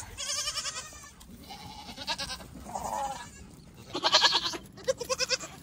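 Hungry farm goats bleat loudly at evening feeding time, several overlapping calls coming in bursts, close and clear with no talking.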